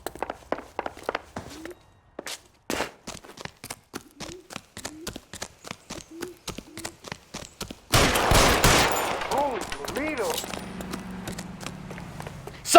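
Gunfire in the video game L.A. Noire: a long run of sharp single shots at an irregular, quickening pace, followed by a dense, loud burst of rapid fire with echoing tails.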